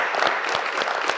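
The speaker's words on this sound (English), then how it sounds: "So let's give him a round of applause." Audience applause at a veterans' event honoring a retired U.S. Army sergeant major, a steady wash of many hands clapping throughout, with a few sharper claps standing out.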